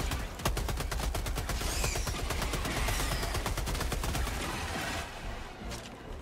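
Shotgun blasting repeatedly in Helldivers 2, a rapid series of sharp, loud shots in steady rhythm that taper off near the end, with faint background game noise.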